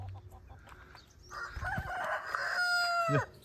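A rooster crows once, loud and close, a long rising and falling call that ends abruptly, with faint clucking from other fowl before it.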